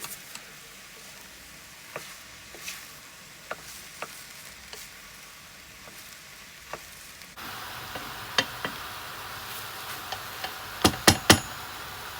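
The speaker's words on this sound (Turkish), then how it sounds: "5 dakika boyunca bu şekilde karıştırarak kavuralım patlıcanları." Eggplant sizzles quietly in a pan while a utensil scrapes and taps irregularly as it is stirred; the sizzle grows louder partway through, with a few sharper clacks near the end.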